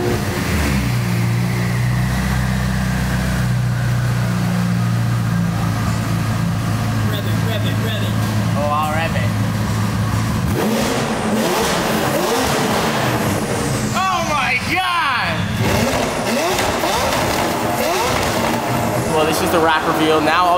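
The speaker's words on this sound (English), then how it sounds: "This car's so loud, bro." A loud car from a collection, not started in almost a week, fires up with a steady rumbling idle, then revs in rising and falling bursts, close and continuous, with voices talking over it.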